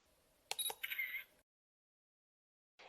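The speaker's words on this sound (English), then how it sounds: "To take a picture, just press the shutter." A kids' digital camera's shutter fires with a few sharp electronic clicks and chirps in quick succession, close and clear, then falls silent before a brief faint sound returns.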